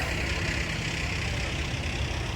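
A half-ton pickup truck towing a trailer rolls past in a nighttime Parade of Lights in Thunder Bay, its engine a steady low idling rumble mixed with broad crowd and street noise, continuous and fairly loud throughout.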